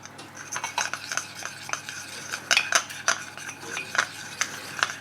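Melted Caramac is stirred into Werther's Original caramel with a spoon, giving quick, uneven metallic clinks and scrapes against the pan or bowl, close by and fairly soft, over a low background hum with no talk.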